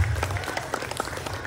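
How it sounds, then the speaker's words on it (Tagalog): Applause from an audience at an elementary school graduation ceremony, honouring the school principal: steady clapping at moderate volume lasting about a second and a half, with a low hum underneath. "papalakpakan po natin ang ina ng Salaan Elementary School"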